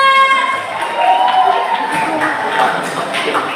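An audience at a high school live performance event in Jakarta cheers and claps, a loud, close burst of crowd noise with excited voices and shouts layered over the applause.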